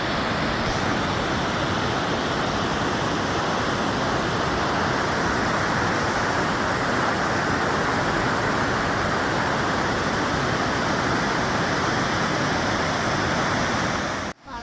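The Bhagirathi river, the upper Ganga at Uttarkashi, roars as a dense, steady rush of fast water that runs loud and unbroken until it cuts off abruptly at the end.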